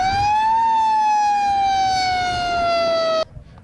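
A loud, close emergency vehicle siren from fire engines and police cars at a mock rescue drill wails in one long sustained tone that slowly falls in pitch, then cuts off abruptly.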